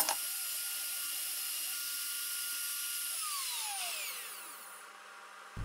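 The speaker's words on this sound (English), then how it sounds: "I then raised the spindle and changed over to an up spiral single flute bit to make the cut." A CNC spindle fitted with an up spiral single flute bit, cutting a part for a pivoting mitre saw base, gives a steady high-pitched whine that winds down toward the end and then cuts off.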